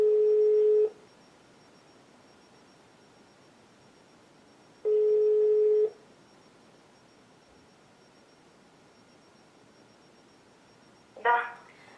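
A telephone call to Kaliningrad rings out: two long, steady ring tones a few seconds apart, clear and fairly loud on the line, followed by a short burst of sound near the end.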